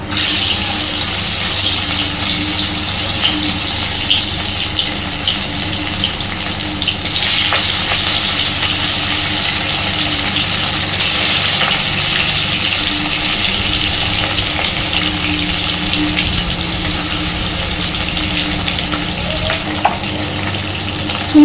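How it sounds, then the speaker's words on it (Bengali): Haluya fish fry in oil with a loud, unbroken hiss of sizzling that holds steady for about twenty seconds, with occasional faint clinks and no voices. "চলুন মাছগুলো ভেজে নিই"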